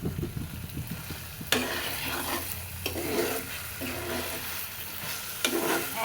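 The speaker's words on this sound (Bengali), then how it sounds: "মশলা ভাজা হয়ে গেছে, কাঁচা কাঁচা গন্ধ চলে গেছে" Spice masala for a duck egg curry fries and is stirred in a pan, a steady close sizzle broken by sharper scraping stirs at intervals, with no talk.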